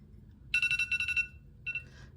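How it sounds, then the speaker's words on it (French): An alarm clock gives a burst of rapid electronic beeps, then a short second burst after a pause. The beeping is clear and close against a quiet background. "Vous avez entendu mon réveil?"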